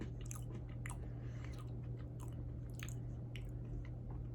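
Someone chews Salted Caramel Brownie Oreo cookies up close, with soft crunches and wet chewing sounds repeating irregularly over a steady low background hum.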